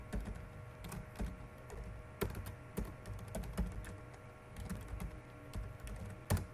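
Typing a username on a computer keyboard, with irregular bursts of key clicks and sharper strikes, close up, no talking.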